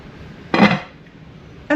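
A slow cooker pot lid is handled, giving two short, close ceramic clatters about a second apart with quiet room tone between them.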